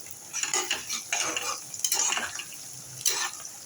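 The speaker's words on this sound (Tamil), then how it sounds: "நல்லா வெங்காயம் வதங்கிடணுங்க" Onions sautéing with ground spices in a pan for a pickle-style curry, heard as a soft sizzle under repeated scraping and stirring strokes from a utensil, close and moderately quiet, without talk.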